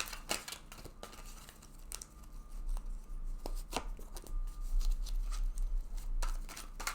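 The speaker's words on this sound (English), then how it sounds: "So let's go ahead and shuffle this deck several times now." A tarot deck is shuffled over and over at close range, giving papery riffles, crisp snaps and soft rustling bursts at a steady pace, with no voice.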